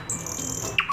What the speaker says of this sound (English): Yes, it is a bird. Nightingale.